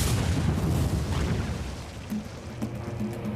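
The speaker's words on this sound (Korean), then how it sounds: "이것이 감마선 폭발이다." Gamma-ray burst explosion sound effect for a documentary, a deep rumbling boom that fades gradually into a low roar, with faint scattered pops and tones near the end and no talk.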